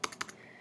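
A few quick keystrokes tap on a computer keyboard, close and soft: a cluster of four clicks followed by one more after a short gap.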